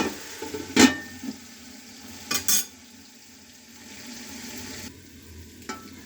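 Finger-cut potatoes fry in a pan with a soft, steady sizzle, broken by a few sharp clinks and scrapes of a utensil moving them around, close by and without talking.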